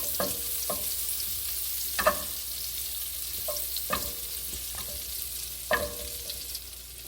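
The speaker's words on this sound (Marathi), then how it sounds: "मी आता बटर घालते आहे गॅस बारीकच आहे माझा एकदम आपल्याला बटर विरघळायला पाहिजे" Butter and olive oil melt in a pan over a low gas flame, a soft steady sizzle broken by occasional clicks and scrapes of a utensil, close and without speech.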